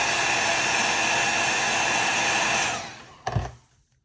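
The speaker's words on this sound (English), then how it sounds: "I'm going to use a hairdryer real quickly" A hair dryer blows steadily at close range to heat rubberized grip adhesive on a Glock 19, a loud continuous whoosh, then switches off and winds down, followed by a brief clunk.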